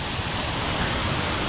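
The waterfall at Sturgeon River Gorge roars as a dense, steady wash of falling water, with no break or shift in the rushing noise.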